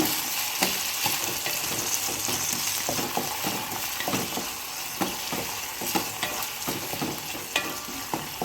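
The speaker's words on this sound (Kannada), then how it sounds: "ತುಪ್ಪದಲ್ಲಿ ಟೊಮೊಟೊ ಫ್ರೈ ಆಗ್ತಾ ಇದ್ದರೆ ಘಮ ಅಂತ ಪರಿಮಳ ಬರುತ್ತೆ" Tomatoes frying in ghee with salt in a pan, a steady broadband sizzle running throughout with repeated sharp scraping clicks of a spoon stirring at close range.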